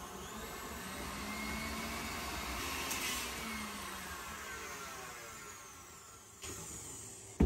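A stand mixer with its paddle attachment whips butter in a steady, faint whirring drone that rises slightly then eases, ending with a brief clunk, no talk.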